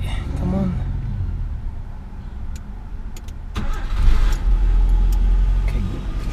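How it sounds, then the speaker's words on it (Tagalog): A Nissan Sentra B14 engine warming up, a steady close car engine drone with a sharper surge partway through, while people talk over it. "habang pinapainit yung makina"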